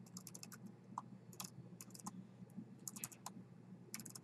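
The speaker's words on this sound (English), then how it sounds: "I type it out like that." Quiet, close typing on a computer keyboard, irregular bursts of key clicks with short pauses between them, and nobody speaking.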